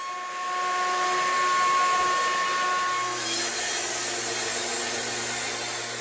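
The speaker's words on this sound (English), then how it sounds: "So we're passing the router in both directions." A power router passes back and forth over a wooden surface to flatten it, giving a steady, loud high-pitched whine with grinding friction, constant through the span, the pitch shifting slightly midway.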